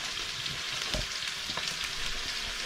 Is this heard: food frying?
yes